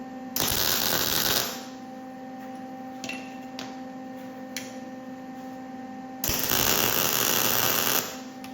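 Welding on a custom mini street bike frame comes as two loud, close bursts of harsh crackling buzz with a steady hum under them, separated by a quieter stretch with a few sharp ticks.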